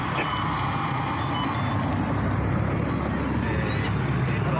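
Someone blows steadily and forcefully into a police breathalyzer at a roadside check for drunk driving, a loud continuous rush of breath with a few short electronic beeps at the start and a voice and traffic noise in the background.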